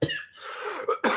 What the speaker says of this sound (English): Random cough there.